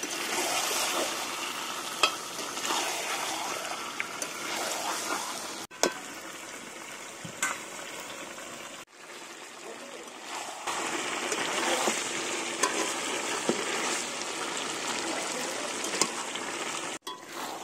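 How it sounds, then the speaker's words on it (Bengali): Chicken pieces stir-frying in oil in a kadai for restaurant-style biryani, a steady close sizzle with scraping stirs that runs on without pause and has a few brief drops in level. "খুব ভালো মতো মাংসটাকে কষিয়ে নিয়েছি"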